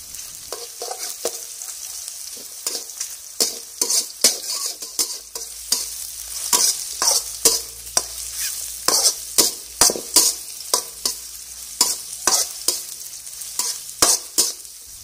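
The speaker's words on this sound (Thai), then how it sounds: "ผัดกระเทียมก่อนนะคะเมื่อกระเทียมเริ่มส่งกลิ่นหอมก็ผัดรวมกันได้เลยค่ะ" Garlic stir-frying in hot oil in a wok for Thai stir-fried yellow egg noodles, with mushrooms pushed to the side, a steady close sizzle broken by rhythmic scraping strokes of the spatula.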